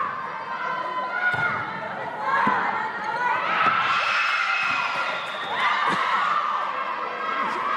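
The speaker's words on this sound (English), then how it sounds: "They're cheering quite loudly." Loud crowd cheering and shouting fills a girls' school volleyball match, a dense sustained roar of young voices with a few sharp thuds from the ball and court, swelling and dipping over several seconds.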